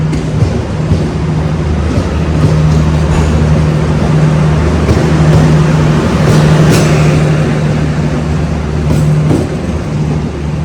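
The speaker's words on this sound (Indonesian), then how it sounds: "Itu ada rangkaian kereta api juga" A passenger train rolls past on the Solo–Semarang line, a loud, continuous rumble with steady wheel and carriage noise and a faint hum throughout, close to the listener.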